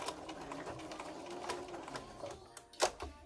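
A domestic sewing machine backstitches while securing elastic on a homemade fabric face mask, running a steady mechanical whir with rapid needle ticks, then pausing before a short louder burst near the end.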